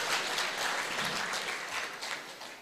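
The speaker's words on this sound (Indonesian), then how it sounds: "tepuk tangan semua dulu ya" An audience at a Pagar Nusa martial arts trainer graduation applauding, a dense continuous wash of clapping at moderate distance, fairly faint.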